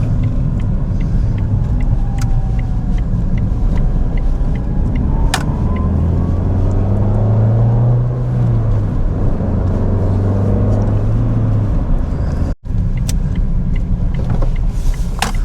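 A Ford Fiesta being test-driven for a knocking noise underneath rolls along the road, a steady interior rumble of engine and tyres with a brief rise in engine pitch midway and no talking.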